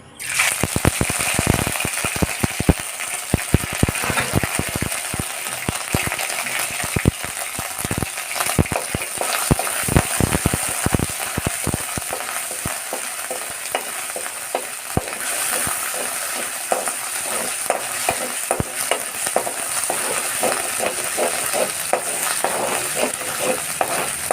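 Ginger-garlic paste fries in a hot pan, a steady loud sizzle broken by frequent sharp clicks and scrapes of a spatula stirring and knocking the pan, continuing throughout without voices.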